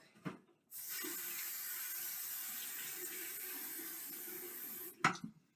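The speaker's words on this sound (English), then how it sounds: "I'm just going to remove any remnants with a quick rinse" Running water from a sink tap during a facial rinse, a steady moderate stream lasting about four seconds, framed by brief clunks as the flow starts and stops, no voices.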